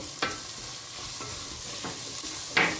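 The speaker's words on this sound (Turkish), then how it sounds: "Unumuzu da şöyle bir çevirelim" Flour toasts in a pan with a soft, continuous sizzle, punctuated by a few sharp scrapes of a utensil stirring it, close and fairly quiet, without speech.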